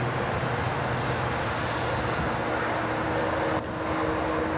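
An Asiana Airlines airliner in Star Alliance livery roars steadily at Sydney Airport, a dense, even engine wash with a low hum beneath and a brief high squeak near the end.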